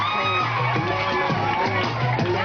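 An audience at a church event cheers and shouts with scattered whoops for a group being introduced, a lively babble of many voices filling the hall throughout, with a loud amplified tone humming beneath.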